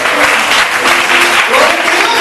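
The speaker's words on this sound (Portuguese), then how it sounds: "Você pode aplaudir o Senhor?" A church congregation bursts into steady, loud applause during a sermon, a dense wash of clapping with a faint voice mixed in.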